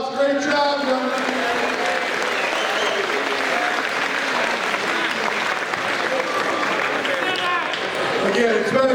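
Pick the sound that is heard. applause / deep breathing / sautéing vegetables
applause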